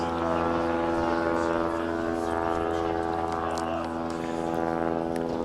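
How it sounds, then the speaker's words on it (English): A steady, droning engine hum with layered tonal harmonics, like a propeller plane passing overhead, mixed with a low crowd murmur at an outdoor boys' high school soccer quarterfinal. "that strange noise in our crowd mic, that's an airplane flying over"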